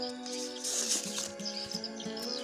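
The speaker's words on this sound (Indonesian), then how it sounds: "Suara atau keretekan pada murai batu bakalan yang bagus yaitu terdengar nyambung dan jedanya juga lama" A white-rumped shama (murai batu) sings a continuous run of clear whistled and chirping phrases, loud and close, with no pauses and no voices.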